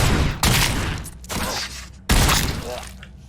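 Gunshots in a RoboCop video game: three loud, close blasts about a second apart, each ringing out before the next.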